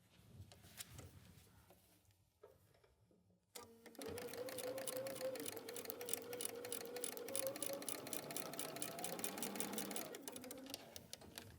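Sewing machine stitching a quilt block seam: a muffled handling start, then a steady, fast mechanical whirring hum with rapid needle clatter running for several seconds before slowing, close by, with a voice speaking around it.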